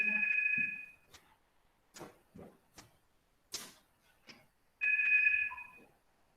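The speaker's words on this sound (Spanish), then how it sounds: "Espérenme que suene el teléfono en mi casa." A home telephone rings in two electronic bursts, one at the start and one near the end, with quieter clicks and brief voices in the gap between them.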